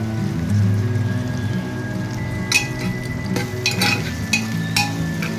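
Sliced onion and split green chillies sauté in a hot pan, a low steady sizzle broken by a few sharp scraping stirs near the end, close and without talk.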